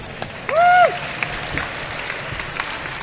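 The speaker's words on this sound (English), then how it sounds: "Had a cheer for the only countryman of mine in the finals" Brief burst of cheering and clapping from the audience at a Rubik's cube competition final, rising sharply for under a second with a voice whooping above it, then settling into faint scattered noise.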